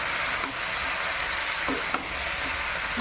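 Vegetables, including bottle-gourd stems, stir-fry with a ground paste of mustard, cumin and chili in a village kitchen pan, giving a steady close sizzle with a few soft clacks of a stirring spoon throughout.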